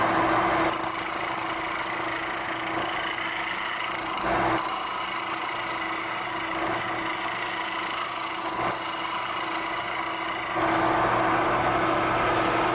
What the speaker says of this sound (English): If I present the tool horizontally, I get a very nice cleanup cut because that edge is less than 90 degrees.